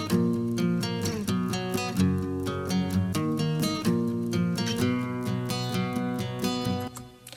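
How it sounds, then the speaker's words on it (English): A thick layered guitar part doubled with finger-picked guitar plays a steady chordal pattern with rhythmic accents, loud and continuous, as part of a verse arrangement, no voices. "you get that really fat feeling of the guitar together with the finger guitar."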